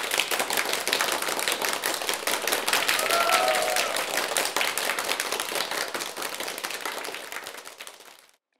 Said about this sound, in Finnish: Aplodit Pumpuliinalle.